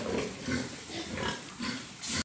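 A mother pig grunts in a series of low, rough snorts and oinks, fairly close and steady, with no voices over it.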